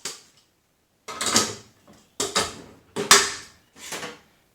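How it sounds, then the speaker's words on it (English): Mixing bowl being fitted onto a stand mixer, heard as four separate clanks and scrapes of metal against metal, each one short and close, with brief quiet gaps between them. "we're going to go ahead and attach our bowl"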